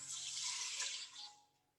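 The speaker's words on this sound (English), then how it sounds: "And to that, we're adding 4 cups of water." Four cups of water pour in a steady, close rush over dried elderberries and dried wolfberries, a broad hiss that holds for over a second and then tapers away at the end.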